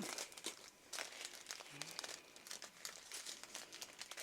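Plastic packaging of a diamond painting kit crinkles and crackles close by, a soft continuous rustle with irregular sharper crunches and no talking over it.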